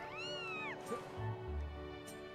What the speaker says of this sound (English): and then we get the little demon terror cat.